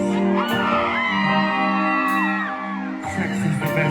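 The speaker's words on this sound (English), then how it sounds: "scream for me please." Crowd at a live reggae show roars and screams over loud music, a sustained wall of cheering and whoops that dips briefly before rising again.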